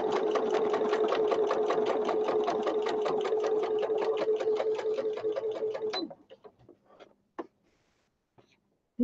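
A sewing machine runs a fast, even stitch for about six seconds while sewing a vintage journal cover, then stops, leaving a few light clicks and taps of fabric handling.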